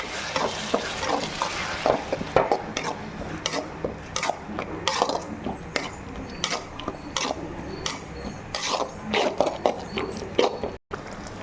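Coarsely ground tomato paste sautéed in a pan for tomato rice, with a constant sizzle broken by frequent scraping and tapping of a utensil against the pan and no talk.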